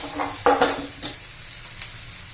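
Asafoetida and ground spices dropped into hot oil beside onions for a mung dal and onion dish, a sharp sizzling burst with a couple of spoon scrapes, then settling into a softer steady hiss, no voices.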